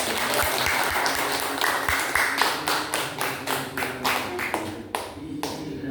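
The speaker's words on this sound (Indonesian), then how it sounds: "Sekarang bisa kalian kasih tepuk tangan buat temennya" A classroom of students claps together, a steady burst of applause that settles into a rhythmic, fading patter of hands.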